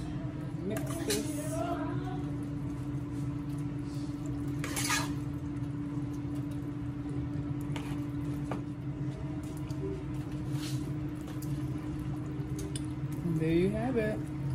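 Cooked crawfish pasta is stirred in a pot, giving wet squishing and dripping sounds over a steady background hum, with a person talking at times.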